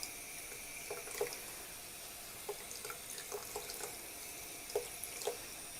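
Water runs steadily from a tap into a sink while dentures are rinsed under it, a soft continuous hiss with intermittent splashes and drips, close and alone.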